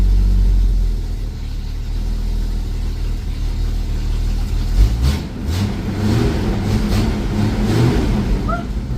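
An old Ford XB Fairmont, left sitting in a paddock for decades, idles with a deep rumble, then revs up and down in rough uneven surges, loud and close.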